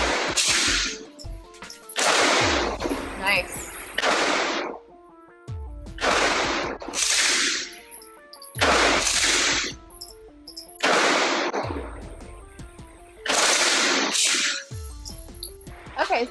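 Firearm shots ring out in several loud bursts of automatic fire, each cluster of sharp cracks separated by short pauses, close and echoing, with brief talk between bursts.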